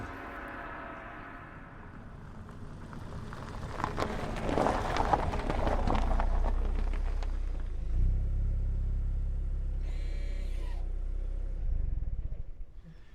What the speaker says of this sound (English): Driving up here in a four-wheel drive vehicle is easy these days